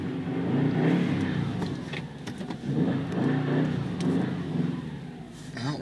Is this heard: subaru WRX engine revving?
yes